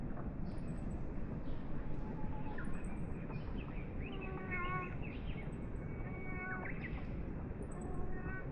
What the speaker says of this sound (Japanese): 猫がおしゃべりしています。